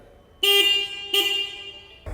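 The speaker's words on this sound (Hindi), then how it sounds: "आपको सिंगल हॉर्न मिलता है और इसकी आवाज़ भी ज़रा अलग है।" Two loud, bright honks from a Honda H'ness CB350 motorcycle's single horn, each held for about half a second with a short gap between, close by.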